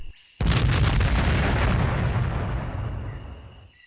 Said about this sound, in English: was slammed to the ground as a second explosion came from practically right behind him